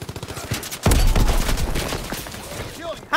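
Gunfire in the Call of Duty WWII video game: a rapid burst of close, loud automatic shots hammering out after a short run of lighter rhythmic thumps, with faint voices beneath.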